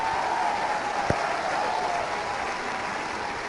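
Congregation applauding during a Christian sermon, sustained dense clapping throughout with one sharp knock standing out.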